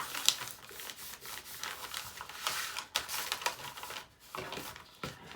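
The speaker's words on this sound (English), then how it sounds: "you're going to fold this one over" Paper bag being folded over at its ends for a handmade journal, a run of soft crinkling and rubbing paper sounds with sharp creasing snaps, close and alone.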